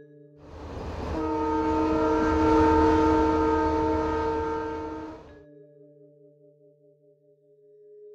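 A train rushes past at full speed with its horn sounding, a loud sustained blast over a rumbling roar that swells and then cuts off, leaving a faint lingering tone.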